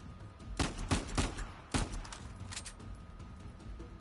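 Rapid bursts of gunfire in the Uncharted 4 video game, several loud close shots in quick succession followed by fainter scattered firing, with no talking.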